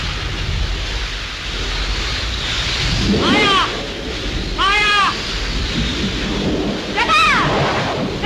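A thunderstorm with rain in an old 1937 Hindi film soundtrack: a steady hiss of rainfall and gusting wind, rolling thunder swelling in repeated waves, and wavering, wailing tones rising over the storm several times.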